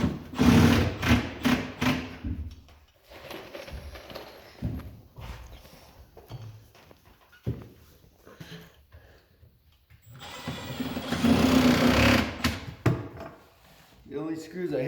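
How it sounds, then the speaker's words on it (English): A small Milwaukee hydraulic driver sinks Torx-head decking screws into an upper garage cabinet, making two close, buzzing bursts a few seconds long, separated by a stretch where someone talks. "This little Milwaukee driver right here, the little hydraulic driver comes in handy."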